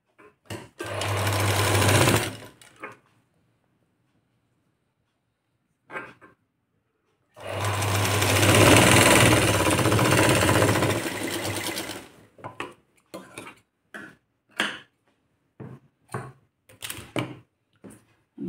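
An electric sewing machine stitches a blouse neckline, whirring in two long continuous runs separated by quiet, then giving a string of short, quick stitching bursts.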